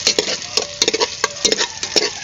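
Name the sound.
stirring sotanghon noodles while cooking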